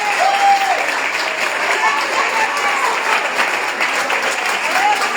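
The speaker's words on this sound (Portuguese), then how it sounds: "Receba com palmas para o Senhor Jesus" Church congregation applauding during a worship service, a loud, sustained roar of many hands clapping, with voices calling out over and through the applause.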